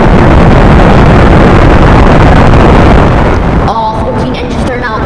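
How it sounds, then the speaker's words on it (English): Rocket boosters roar into ignition at lift-off of the Legendx-V-1 moon launch, a loud, dense, sustained rumble filling the whole span, easing somewhat near the end as a faint voice comes through. "Boosters at ignition. And lift off Legendx-V-1."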